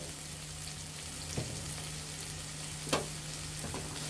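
Spinach frying in a pan with turmeric, coriander powder and salt, a steady low sizzle with a couple of soft stirring scrapes, close and fairly quiet, no talking.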